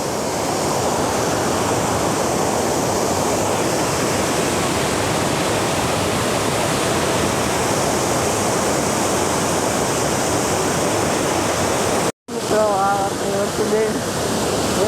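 Floodwater pours through the opened gates of a dam at Bhanvad during the rains, a loud unbroken roar that cuts out briefly near the end and then returns with a voice faintly above it.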